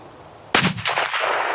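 A single loud rifle shot during a doe hunt in Pennsylvania, a sharp crack followed by a rolling echo that fades across the open ground.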